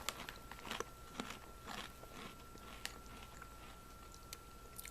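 Quiet, close crunching and biting of Herr's Tailgate Tacos flavored potato chips, several crisp snaps scattered over a few seconds with soft chewing between, no voices.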